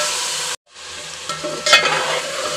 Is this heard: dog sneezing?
no